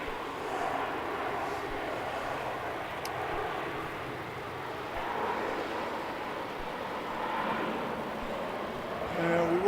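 A steady, distant roar of an airliner taking off from runway 34 at Melbourne Airport at night, broadband and sustained without clear peaks, with faint background rumble throughout.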